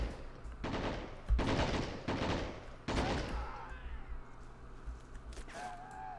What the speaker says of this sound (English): Looks like the only thing that's going on for now is just some sporadic gunfire and being shot at